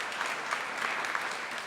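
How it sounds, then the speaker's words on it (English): Steady, dense applause from the audience at an annual property owners' association meeting, an even wash of clapping heard from a distance. "deserve a round of applause."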